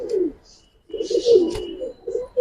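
A restless Giribaz pigeon in a loft gives close, loud throaty coos in three short bursts separated by brief pauses.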